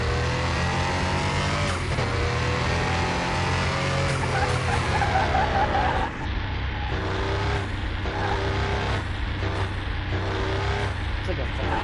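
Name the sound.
racing car engine and skidding tires in a video game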